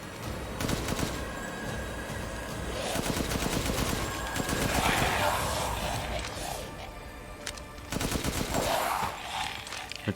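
Rapid bursts of gunfire from a weapon in the video game Resident Evil 8, several loud close volleys with short pauses between them.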